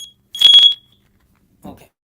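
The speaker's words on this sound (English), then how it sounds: "I basically have to remove the smoke detector from the wall." A wall-mounted smoke detector lets out a single loud, shrill chirping alarm burst, followed about a second later by a brief, quiet vocal sound.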